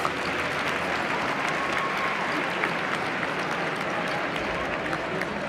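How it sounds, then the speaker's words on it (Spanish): Audience applause at the Cometcon'17 cosplay stage contest, a continuous wash of many hands clapping at even loudness from start to finish, with faint voices underneath. "¡Un aplauso para Ani!"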